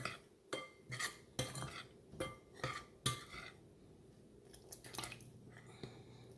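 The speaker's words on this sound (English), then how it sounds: "Okay, so give it a stir here." Cornbread muffin batter made with milk being stirred in a bowl, a series of sharp clinking and scraping spoon strokes in an irregular rhythm, close and moderately loud, fading to quieter scrapes toward the end.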